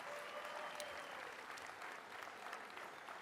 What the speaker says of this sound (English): Let's give them all a strong round of applause.